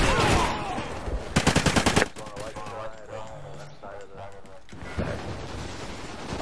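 Rapid gunfire in a shooter video game on a lighthouse map: a burst of loud shots near the start, then scattered reports and impacts, with a voice talking over the action.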